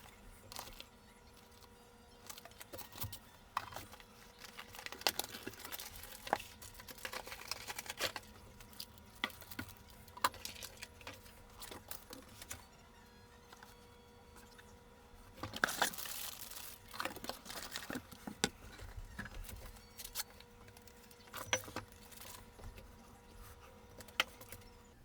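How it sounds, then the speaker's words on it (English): Pro's Kit soldering iron packaging being unwrapped at high speed: quiet, rapid crinkling, tearing and patter of plastic and cardboard, with bursts of busier rustling. "let's go ahead and unwrap this in high speed"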